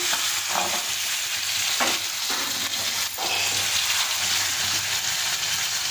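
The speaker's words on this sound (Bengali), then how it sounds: "একটু মশলার সাথে একটু কষিয়ে নিচ্ছি মাছটাও।" Hilsa fish and potato pieces sautéing with spices in hot oil, a steady close sizzle broken by a few stirring scrapes, with no voices.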